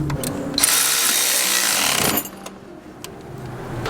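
A power tool drives the pitch mount bolt on a Subaru, a loud whirring burst of about one and a half seconds, followed by a softer mechanical rattle and light clicks.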